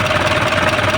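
An Isuzu 4HL1 diesel engine runs after an injector fix, a loud close idling clatter with a steady rhythmic knock filling the whole short moment.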